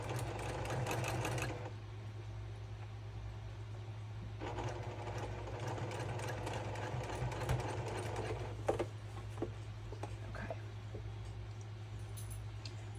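Sewing machine stitching quilt blocks together for a double wedding ring quilt, a steady low mechanical hum with bursts of rapid whirring stitches, close and quiet, with brief pauses and small handling clicks.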